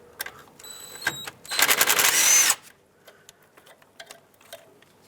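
A power tool on a 2003-2009 Toyota 4Runner brake hose bracket whirs in one loud burst of about a second and a half, between close clicks and ticking of tools on the bolt.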